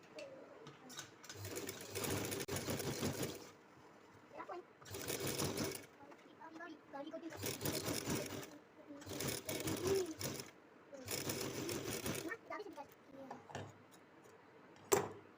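A sewing machine stitches the side seam of a flared princess-cut kurti in repeated bursts of rapid whirring, each a few seconds long, with short pauses and someone talking in between.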